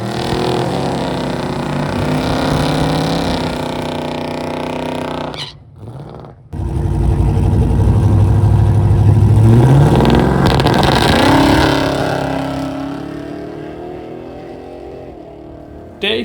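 A car with a 6.0L LS V8 fitted with a Hellcat supercharger, misfiring as it runs down a drag strip: a loud, close, sustained engine roar that cuts out briefly partway through, then surges back and slowly fades.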